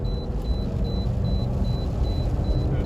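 Rebuilt transmission in a Toyota RAV4 shifting while driving, a steady low engine and road rumble inside the cabin with no clear break, plus a faint repeating high beep throughout.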